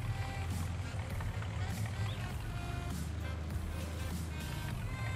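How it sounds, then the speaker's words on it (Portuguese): A tractor works in the video game Farming Simulator 19, a steady low engine drone with constant rumble throughout, while a person talks over it. "O trator tá lá, o homem tá trabalhando."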